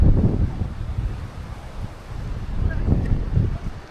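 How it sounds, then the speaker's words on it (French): Strong wind on Jeju island buffets the microphone in gusty, rumbling bursts through narrow streets, loud and uneven across the few seconds. "il y a vraiment beaucoup de vent"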